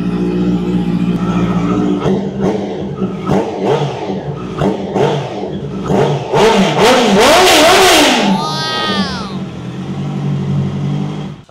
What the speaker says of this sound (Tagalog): sound check natin. X-Seal exhaust.